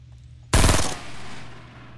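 A short, loud burst of rapid automatic gunfire in Fortnite Battle Royale, lasting under half a second, trailing off into a lingering echo over a low background hum.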